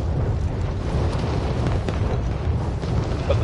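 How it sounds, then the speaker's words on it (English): Deep booming explosion rumble from Warzone on PS5 rolls on steadily for a few seconds, loud and broad, with no talking over it. "I keep hearing explosions after explosions"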